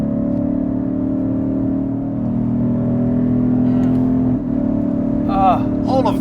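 A Lexus IS 500 V8 hums with a deep, steady engine drone from inside the cabin, swelling slightly before easing off, with a person starting to talk near the end.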